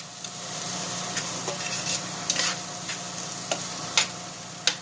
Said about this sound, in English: I'll stir it around a little bit, cut some sides down